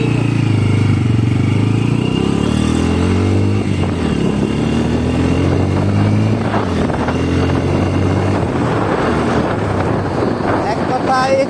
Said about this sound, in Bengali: এখন আমরা একটা টেস্ট রাইড দিয়ে দেখবো এই বাইকটা কেমন